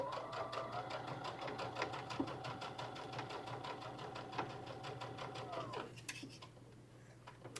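A serger stitches little boys' shorts in a steady, rapid mechanical chatter with a motor hum underneath, running close and loud for about six seconds before it stops and the room falls quieter.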